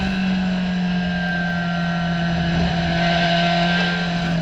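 COMMA SRF3 race cars circle Hallett Motor Racing Circuit, a continuous droning engine roar with a steady pitched tone, moderately loud and unbroken, with no voices.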